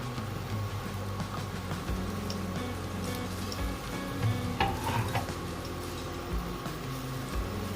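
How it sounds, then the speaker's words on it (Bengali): Chopped onion goes into a frying pan for chilli chicken momos and sizzles quietly, with stirring clatter and occasional scrapes over a low background hum and no talk. "এরপরে আমি দিয়ে দিচ্ছি একটা মতো পেঁয়াজ কুচি।"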